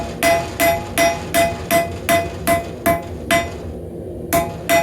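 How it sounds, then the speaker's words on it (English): Hammer blows ring out on hot rebar being forged into a squirrel tail knife, about ten sharp metallic strikes in an even rhythm with one brief pause, close and loud. "it only takes a few heats to draw this rebar out to the length that we want"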